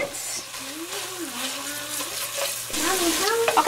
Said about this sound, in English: So now I'm going to dump in the 1/4 teaspoon of nutmeg and the 2 garlic cloves, okay? And then I'm going to mix that around for about 30 seconds